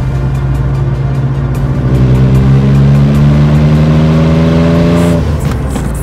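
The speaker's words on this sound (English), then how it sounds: "Just the sound of that six-cylinder" A BMW 530 MLE with its M30 six-cylinder engine pulls uphill in fifth gear, giving a loud, close, steady drone whose pitch slowly rises under load before easing off near the end, with no talk.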